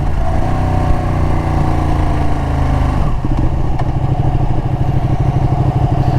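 A 2019 Ducati 959 sport motorcycle is ridden close by, its engine loud and rising through revs, then dropping with a gear change around 3 seconds and pulling steadily again.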